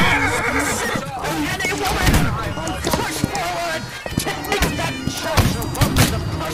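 A horse whinnies and a heavy thud follows as it collapses in a video game, amid busy game noise, gunfire-like bangs and excited talking throughout.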